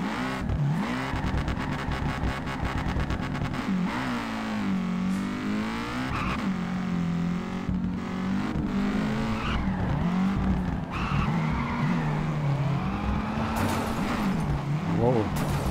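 Drifting car in the racing game Peak Angle: Drift Online, its engine droning and shifting pitch continuously while tires squeal and skid through slides, steady and close throughout, with a voice talking over the top.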